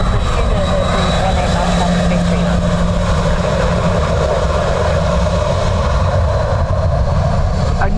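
A fixed-wing airliner lands in a crosswind at Dublin Airport, its jet engines a loud, steady roar that fills the whole stretch while voices talk over it.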